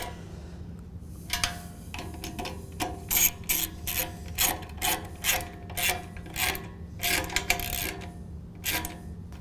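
A 7mm ratchet tightens hardware on a factory plastic fog light housing with lock washers during a Jeep JK front bumper install, producing a series of close, rhythmic clicking bursts in repeated strokes.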